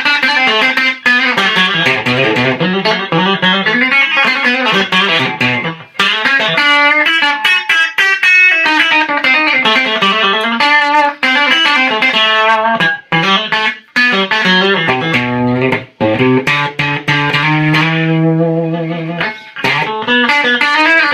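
A cigar box guitar plays single notes and short runs through a '65 Princeton Reverb tube amp, warm and slightly overdriven, loud and continuous with no talking.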